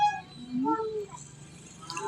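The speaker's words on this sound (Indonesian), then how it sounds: "Kucing kok lulute ngene lah." A cat meows indoors, a clear, drawn-out call at the start followed by a second rising, wavering meow, close and fairly loud against a quiet room.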